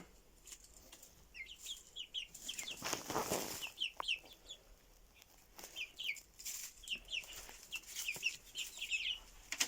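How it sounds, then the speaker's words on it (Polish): Chickens cluck softly in quick bursts, with occasional rustling and wing flaps nearby as they scratch in fresh straw bedding; a quiet, busy coop scene. "Kury to ptaki, które lubią drapać"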